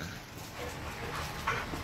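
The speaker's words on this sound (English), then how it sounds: "Man, these dogs are all up in my face." Dogs close by, one of them a pregnant female, making soft whimpers and shuffling, panting sounds. The noises are faint and low-key, with a brief sharp sound near the end.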